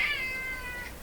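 A house cat named Mr. Peanut gives a single drawn-out meow from close by, wavering and clear, with no talk over it.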